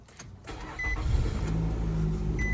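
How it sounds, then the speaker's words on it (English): A Nissan Rogue engine cranks briefly and catches, then settles into a steady close idle hum with a faint electrical whine above it. "Let's start the engine."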